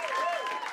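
At the Comedy & Magic Club, a brief burst of audience applause swells steadily for under a second, a moderate wash of clapping under faint background crowd noise.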